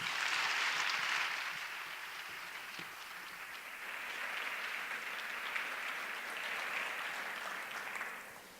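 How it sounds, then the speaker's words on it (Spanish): An audience at a popular science talk claps continuously, a sustained mid-level wash of applause that swells, eases slightly and then fades away at the end. "Así que un grandísimo aplauso para Nuria Carrasco."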